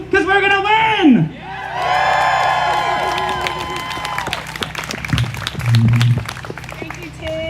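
A crowd at a Trump rally in Salem, Oregon bursts into applause after a voice shouts from the stage, with scattered claps, whoops and cheering building for several seconds, then tapering and flaring again.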